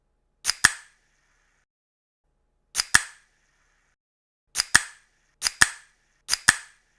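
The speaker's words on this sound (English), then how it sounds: "That was the sound of me opening a pop can or a soda can" A pop or soda can being opened, repeated five times: each a quick close double snap of tab click and hiss-burst, sharp and near, with silence between.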